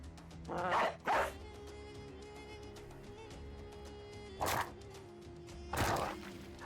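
Dogs in the medieval game Battle Brothers bark in short doubled bursts, two pairs standing out over a quiet, droning musical backdrop.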